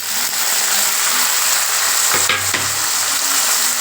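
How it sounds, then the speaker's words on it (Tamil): Tomatoes, onions and Bombay duck dried fish sautéing in a pan, a loud, steady sizzle close up with a brief scraping stir partway through, no voices. "இந்த தக்காளி கூடவே இந்த கருவோடையும் இது நல்லா வதக்கலாங்க"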